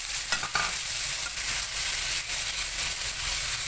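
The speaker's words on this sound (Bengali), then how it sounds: "তেল দিয়ে দিলাম। এখন হচ্ছে যে পেঁয়াজ, রসুন, কাঁচামরিচ দিয়ে দিলাম," Onion, garlic and green chili fry in hot oil for a spiced dried-fish dish with greens, giving a steady close sizzle and hiss with a few light stirring scrapes, no voices.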